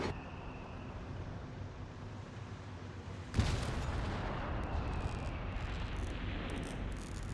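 Howitzer artillery fire in a Company of Heroes 3 4v4 battle: a low rumbling backdrop, then a sudden loud blast partway through followed by sustained booming and rumbling with scattered distant shots.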